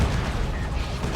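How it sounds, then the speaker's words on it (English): Psy Cannon fire from a Grey Knight Terminator in the video game Warhammer 40,000: Dawn of War 2, dense booming bursts in a loud, continuous battle din. "there's that Psy Cannon on the Grey Knight Terminator is doing some work here"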